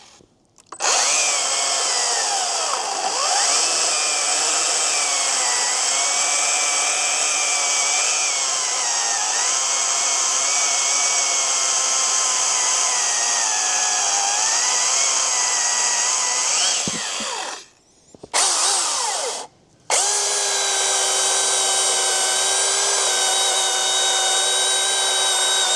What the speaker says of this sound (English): take a listen to the two saws cutting in the same piece of wood back to back